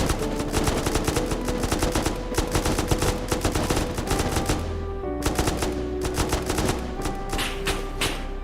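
Rapid automatic gunfire from an audio drama scene of a hamlet under attack, dense bursts of loud rattling shots running throughout with a low rumble beneath, no voices.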